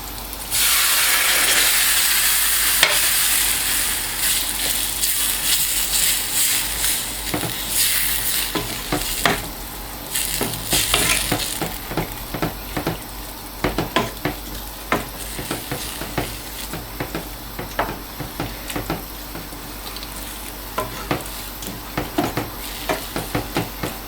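Onion and a glass of water added to a hot frying pan while cooking Iraqi-style fish, opening with a loud steaming hiss that fades into crackling sizzle with scattered stirring and spatula taps.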